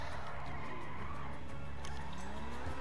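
In a GTA Runners versus Vehicles match, cars skid and squeal their tires over a constant loud roar of engines and traffic that fills the whole stretch without a break.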